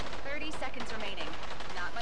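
Rapid gunfire from the shooter game Rogue Company, with dense bursts of shots rattling continuously for two seconds while voices talk over the top.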